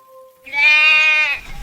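A goat lets out one loud, drawn-out, wavering bleat close by near a river at night, rising in after a brief thin tone and breaking off sharply at the end.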